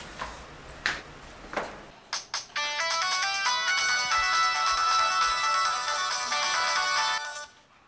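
A mobile phone ringtone plays loud and close, a bright repeating electronic melody that starts after a few soft knocks or thumps and runs for several seconds before cutting off.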